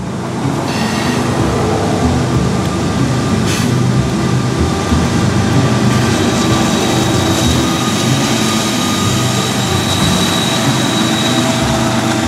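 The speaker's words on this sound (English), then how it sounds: "the DPUs of this loaded coal train chug on by" Heavy freight locomotives, the rear distributed-power units of a loaded coal train, rumble steadily past close by, a loud continuous engine drone with grinding rail noise throughout.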